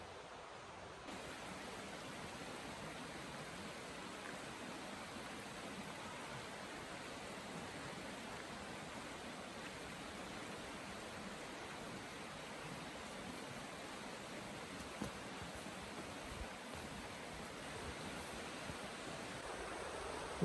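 The Mad River flows beside a muddy trail in Waterville Valley, New Hampshire, a steady, even rush of water that holds unbroken for about twenty seconds with no voices.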